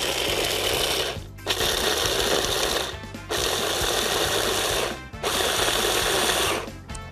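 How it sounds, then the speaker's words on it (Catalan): A food processor grinds raw almonds in three long, loud, continuous bursts separated by short pauses, with a harsh whirring roar. "Llavors anem a triturar aquestes ametlles."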